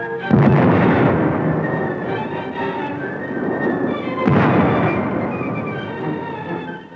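Heavy gunfire and artillery pound the Danzig post office in WWII archival footage, a dense and continuous roar with two sharp, loud blasts standing out, one near the start and one past the middle.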